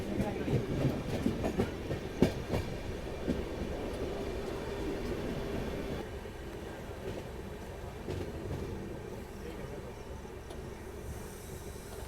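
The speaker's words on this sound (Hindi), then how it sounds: "चलो जी दाहोद रेलवे स्टेशन में फ़िलहाल अपनी एंट्री जो है वो हो रही है" The August Kranti Rajdhani Express rolls into Dahod railway station with a steady close rumble and rhythmic clickety-clack, sharp clanks scattered through it, easing slightly as it slows.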